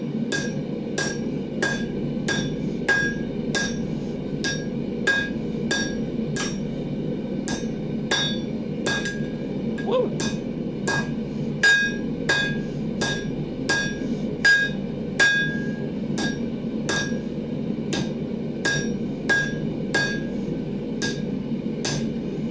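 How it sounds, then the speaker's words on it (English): Blacksmith hammering out S-hooks by hand, a steady run of about thirty sharp ringing hammer strikes at an even rhythm, close and loud over a low background hum. "Let's see how much this hammer tires me out on this next run"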